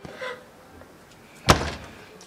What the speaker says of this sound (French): Alors je lui ai claqué la porte au nez.